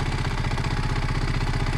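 A Kawasaki W230 motorcycle idles nearby with a steady, even low thump and mechanical rattle, alone with no talk.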